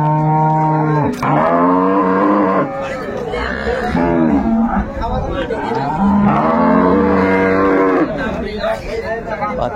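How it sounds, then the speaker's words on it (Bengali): Dairy cows and calves at Ambari cattle market in Dinajpur, several long loud moos rising and falling one after another over a murmuring crowd and nearby chatter. "চমৎকার গাভী বাচ্চা আমরা দেখছিলাম।"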